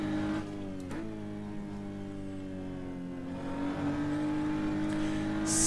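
A race car engine from a sim racing video game drones steadily through a fast lap, holding a loud, continuous buzzing tone that dips briefly and then climbs again as it revs.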